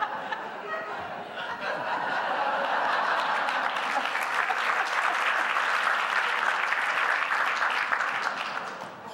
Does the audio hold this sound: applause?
yes